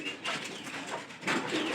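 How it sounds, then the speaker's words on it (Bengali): A visiting pigeon coos at a home, soft rounded calls repeating across a short stretch at moderate level without talk. "তো আমার বাড়িতে একটা অতিথি কবুতর আইছে"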